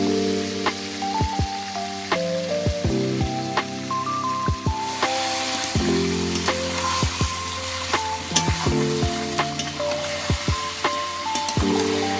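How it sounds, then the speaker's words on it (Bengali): Mutton sizzles in hot oil with whole garam masala and bay leaves in a karahi for Kolkata mutton biryani: a continuous close frying hiss with frequent clinks and stirring knocks over a steady tonal backing, and no speech. "এবারে বেরেস্তা ভাজার তেলটাতে আমি মটনটা বসিয়ে দেবো"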